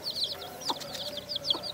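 Chickens on a farm cluck and chirp in short, repeated calls, a few sharper notes standing out against a quiet rural background with no speech.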